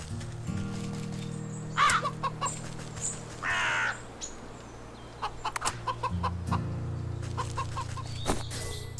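Clucking and cawing bird calls from the Wytchwood video game, a pheasant clucking like a chicken, heard in several short bursts over a steady, droning game background.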